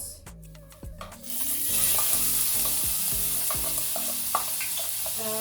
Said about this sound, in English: Then I'll add in my chopped onions.